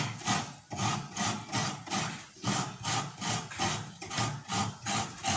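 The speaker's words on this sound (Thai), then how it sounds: "ต้องขูดมะพร้าวก่อน" Coconut grated by hand on a traditional rabbit-shaped wooden coconut grater, a steady rhythmic rasping scrape repeating about twice a second, close and alone.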